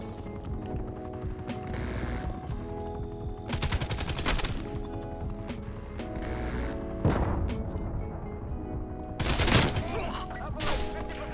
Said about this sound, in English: Let me reload, let me reload.